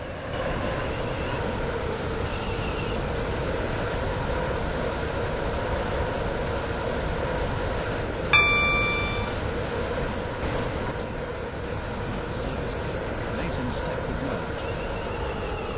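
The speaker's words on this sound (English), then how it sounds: "This train is now approaching Benton." Steady, loud rumble of a train nearing Benton station, a continuous broadband roar filling the whole stretch with a brief sharper squeal midway, while a voice speaks over the noise.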